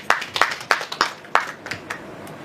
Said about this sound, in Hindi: दीक्षित जी के लिए जोरदार तालियां बजाइए।